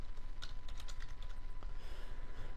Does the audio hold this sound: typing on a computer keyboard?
yes